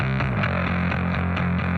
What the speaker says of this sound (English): distortion pedal really brings out